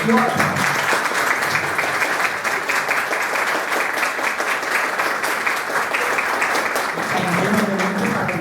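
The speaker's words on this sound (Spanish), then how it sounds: "para quien pido un aplauso" An audience at a Spanish-language reading panel breaks into loud, sustained applause, a dense continuous clatter of hands with faint voices murmuring beneath it near the start and end.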